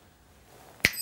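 One crisp finger snap rings out clearly near the end after a quiet stretch, loud and close, leaving a brief bright ringing tail.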